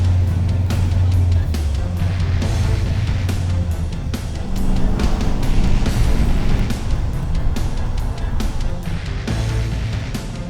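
The Mr. Gasket Lime Crush roadster pulls away with a deep, rumbling engine idle and low throttle, loud and close, punctuated by clicks and knocks, with voices heard over it.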